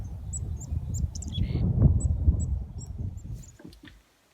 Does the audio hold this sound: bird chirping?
yes